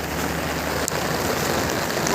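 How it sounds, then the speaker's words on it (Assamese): Heavy rain drums densely and continuously on an umbrella in an open field, a close, loud, even hiss with one brief sharper tap. "ভিজি ভিজি আহি আছোঁ বৰষুণত আৰু ওপৰত এইটো ছাতা"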